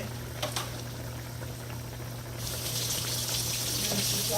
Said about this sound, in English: Y'all see this thing boiling? It's boiling.